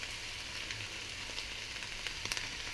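Flour-coated beef sizzles steadily in a pan over high heat, a dense, even hiss with a few small pops near the end and no talking.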